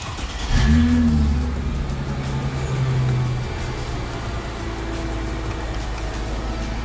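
A car engine turns over and catches during an electric seat relay repair, with a short rising rev that settles into a steady, close idle hum.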